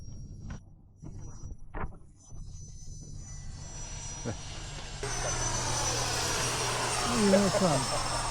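A model airplane at a flying field revs up for takeoff, its engine starting faint under talk and broken handling noises, then swelling into a steady, louder drone for the final few seconds.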